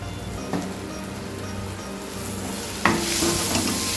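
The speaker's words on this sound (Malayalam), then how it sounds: "ഇനി നല്ലോണം ഇളക്കി യോജിപ്പിക്കുക." Kashmiri chili powder and coriander powder frying in a pan while being stirred, with a soft continuous sizzle and a couple of sharper scraping stir strokes.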